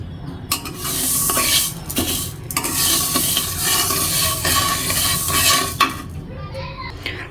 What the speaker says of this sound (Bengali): তো আমি মুগ ডাল দিয়ে নিছি, এখন ভাজি করে নিব